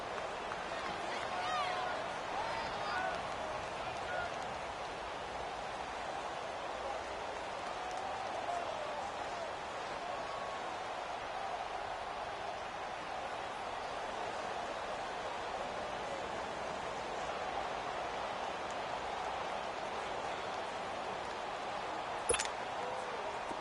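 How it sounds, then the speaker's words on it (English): Stadium crowd in a PS4 American football video game, a steady broad roar that swells slightly as a big third down approaches, with a sharp click near the end. "The crowd getting into it as we come up on a big 3rd down."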